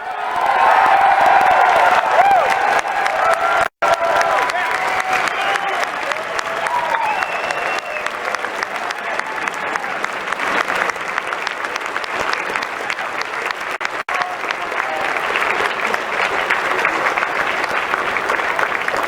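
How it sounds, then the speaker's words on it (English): The crowd at a Libertarian presidential nominating convention debate applauds the candidates at length, sustained dense clapping with cheers and whoops mixed in, loud and continuous. "Can everyone give these candidates another round of applause."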